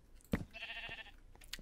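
A sheep bleats in the video game Minecraft, one short harmonic bleat heard at moderate level after a sharp knock.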